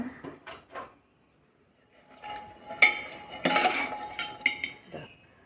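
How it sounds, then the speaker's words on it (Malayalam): A pressure cooker of cooked chickpeas being opened in a kitchen, with close metallic clinks and clatter of the lid and utensils in uneven bursts around a short quiet pause. "കുക്കർ തുറന്ന് നോക്കാം"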